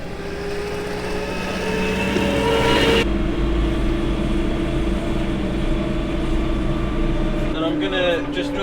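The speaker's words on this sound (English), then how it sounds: "I just had to roll the Manitou forward just to get the hook to pick up" A Manitou telehandler engine runs with a steady low diesel rumble and drone on a farm, holding constant before the tone shifts abruptly partway through and a brief rattle sounds near the end.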